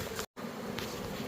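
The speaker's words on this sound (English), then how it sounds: "kind of like a package of bees. I just shook them all down in there." A honeybee swarm freshly shaken into a box gives off a dense, steady buzzing hum at moderate distance, broken by one brief moment of silence.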